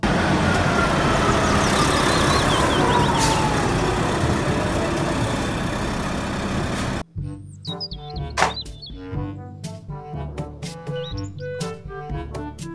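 Concrete mixer truck engine rumbling in steady roadway noise with a passing-vehicle sweep and faint bird chirps, then cut off abruptly and followed by clipped toy-like tones and thunks.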